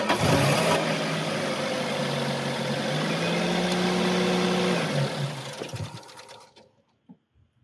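A car engine fitted with an LPG system and a newly replaced reducer runs at a steady idle, humming evenly for several seconds before cutting off and fading into quiet.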